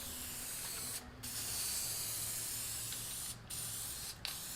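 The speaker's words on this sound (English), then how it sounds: "Or you can use this Gorilla spray adhesive." Steady hissing of Gorilla spray adhesive sprayed onto fabric for a Mitsubishi Eclipse interior, continuous in close, quiet bursts, cutting off briefly twice before resuming.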